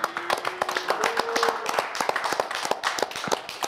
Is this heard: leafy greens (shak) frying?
no